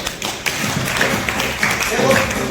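A few people in an audience at a Hindi motivational business talk clap in a loose, uneven patter of taps and thumps for a couple of seconds, close and moderately loud.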